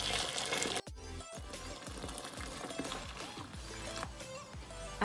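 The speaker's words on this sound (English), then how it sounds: "After cleaning and draining the water, I am going to add boiling hot water." Boiling hot water pours from a kettle over dried chickpeas in a bowl, a soft steady splashing stream with faint gurgles and a brief clink near the start.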